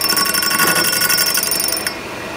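Milling machine spindle running while mitering a bicycle seat stay for a mountain bike frame, a steady loud whine with high ringing tones and a rapid pulsing texture that drops off near the end.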